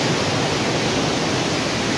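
Strong ocean waves give a dense, steady roar of surf that holds at an even level from start to end, with no voices and no separate breaks.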